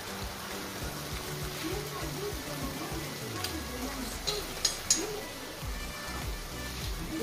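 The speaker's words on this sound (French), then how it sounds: "Je vais frire les poissons pour ne pas perdre du temps." Fish sizzle and crackle in a frying pan, a soft steady hiss with scattered pops and a few sharper clinks, fairly quiet, with a low hum underneath.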